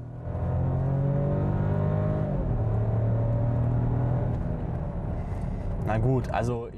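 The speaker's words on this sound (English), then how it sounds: "there's only one way to see whether a 3-cylinder engine is as bad as some say. Step on the gas." An Audi A3 entry-level model with a 3-cylinder gasoline engine accelerates hard, its loud, close, throbbing drone climbing in pitch, easing off at a gear change, then building again while a voice speaks over the end.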